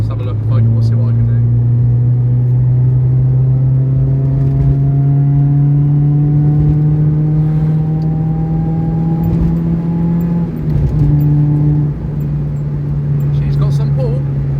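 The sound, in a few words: Mazda RX-7 FD3S car accelerating while overtaking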